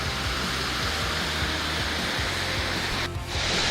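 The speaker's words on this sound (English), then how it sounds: "here's a big beautiful waterfall" A big waterfall in the Endless Mountains roars as a dense, constant broadband rush, close and loud, with no voices over it.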